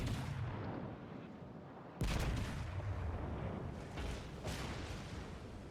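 Warspite battleship guns fire in World of Warships: two heavy booming salvos with rumbling tails, the second one sharp and loud, then secondary gun fire rolling on in the distance.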